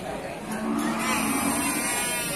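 A water buffalo moos once at a livestock market, a drawn-out low call over busy crowd noise and background chatter.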